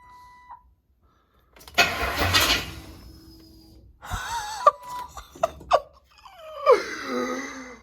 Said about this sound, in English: it'll crank over